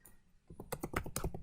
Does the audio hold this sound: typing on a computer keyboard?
yes